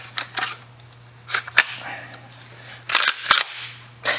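Metallic clicks and clacks of the action being worked on a 50-110 rifle, several sharp mechanical snaps in short bursts, close and fairly loud, with a steady low hum underneath and no talk.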